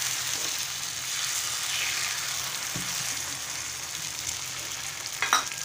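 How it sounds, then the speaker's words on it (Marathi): Ground rice flour batter for ghavne sizzles on a hot oiled griddle in a soft, even hiss that holds steady throughout, ending with a brief metallic clink, with no voices. "मिक्सरमध्ये वाटून घेतलं तांदळाचं पीठ आता घातलंय तव्यावर"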